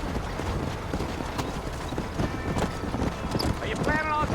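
Horse hooves clip-clop steadily in Red Dead Redemption, a rhythmic trot of close, clear hoofbeats with an occasional whinny, accompanied by dialogue and game ambience.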